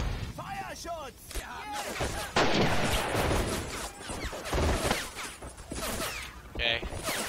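Gunfire and explosive crashes from the WWII strategy game Men of War Assault Squad 2, with German troops firing into a house during an invasion of Russia; dense, loud volleys with bursts of impact, while someone talks excitedly over them.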